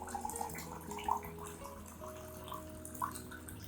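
Water poured into a tangerine peel solution to dilute it for orchids, a steady low trickling and splashing with faint drips, moderately close and continuous.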